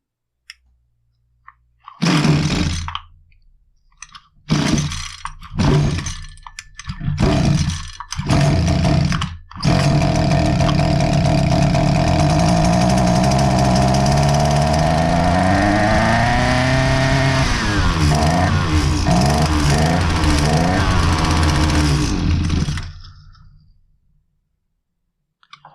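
Husqvarna 223L strimmer with a starting fault: several short pull-start bursts, then the small two-stroke engine catches and runs loud and steady, revving up and down before cutting out.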